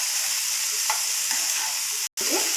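Ridge gourd frying in a pan gives a steady, close sizzle with a few scraping stirs, broken by a brief silent gap near the end.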